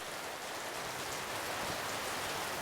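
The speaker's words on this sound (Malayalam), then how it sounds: "നല്ല മഴയാ" Heavy rain pours down steadily, a dense, even hiss of drops hitting surfaces close by, with no voices.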